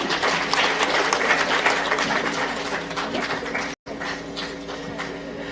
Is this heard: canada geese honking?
no